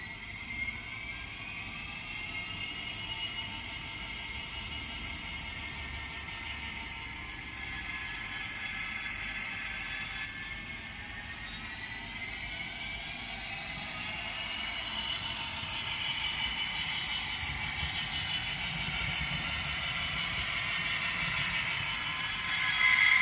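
A model locomotive runs on Hornby track through a newly installed junction and fiddle yard, giving a steady, close whirring hum that swells slightly toward the end with no talking.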